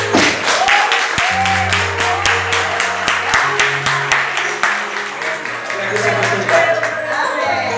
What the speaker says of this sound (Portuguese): Vamos dar uma salva de palmas, Senhor Deus.